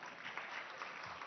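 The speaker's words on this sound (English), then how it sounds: "Yeah, you can clap, it's okay." Steady applause from an audience at the India Today Conclave, a dense patter of clapping hands with no breaks, moderately distant and fairly quiet.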